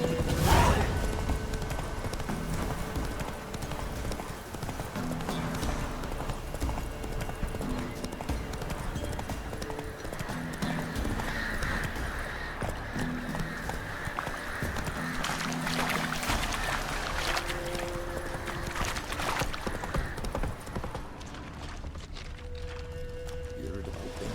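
A horse's hooves clip-clop steadily in The Witcher: Wild Hunt, an even trotting rhythm that continues throughout under game ambience, with voices talking at times.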